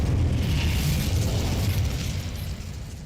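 An Incendio fire spell from Hogwarts Legacy erupts in a loud, roaring burst of flame, rumbling and crackling for a few seconds before easing slightly.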